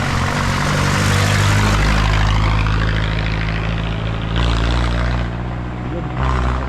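Wind turbine near Pililla, Rizal in the Philippines, giving a loud, steady low whirring drone much like a propeller airplane, constant throughout with slight swells in level.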